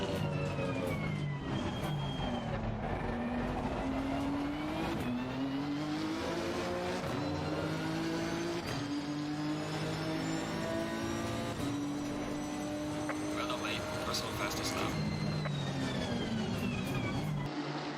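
A race car in the video game Assetto Corsa Competizione, engine note rising and falling through gear shifts as it rounds a bend and crosses the line, loud and continuous, with brief tire squeal.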